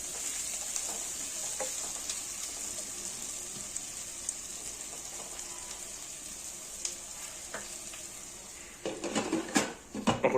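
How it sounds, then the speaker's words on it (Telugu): Onions coated in masala for a country chicken curry sizzle quietly in a pot, a soft steady hiss that turns into louder clattering stirring strokes near the end. "మిక్స్ చేసేసి ఒక 2 minutes ఉడకనియాలి ఆనియన్స్కి మంచిగా"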